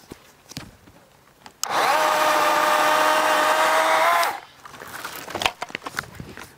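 A power saw cuts through the top branch of a young cherry tree in one loud, steady burst of about three seconds, with quiet rustling before and after.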